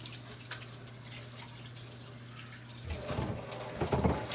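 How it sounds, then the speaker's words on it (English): Hands are washed under a running kitchen sink tap, a quiet hum at first, then close water splashing and gushing that swells in bursts toward the end, with no talking. "let me wash my hands off here"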